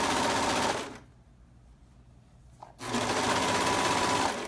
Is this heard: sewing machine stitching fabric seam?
yes